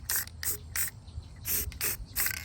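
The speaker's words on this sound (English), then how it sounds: "I'm going to spray paint just the interior of this using short bursts." Spray paint can hissing in six short bursts onto the interior of a Dollar Tree floral craft piece, each spurt bright and airy with brief pauses between, close and fairly loud with no talking.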